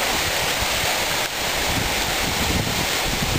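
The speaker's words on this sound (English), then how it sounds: "The wind is blowing." Wind gusts across a microphone at the waterfalls in Portland, Oregon, a loud, constant rushing roar mixed with the wash of falling water, with no voices.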